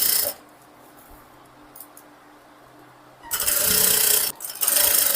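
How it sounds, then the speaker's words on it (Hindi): Sewing machine stitching blouse fabric, a short whirring run at the start, a quiet gap with faint handling, then two longer loud bursts of close, rapid needle stitching. "इसको सबसे पहले 1/2 इंच ऐसे पकड़ करके हम एक सिलाई लगा देंगे"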